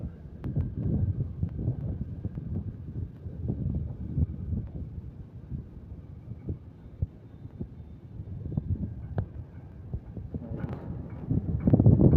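Strong wind along Manila Bay buffets and rumbles against the microphone, a steady low roar with gusty thumps throughout, no voices.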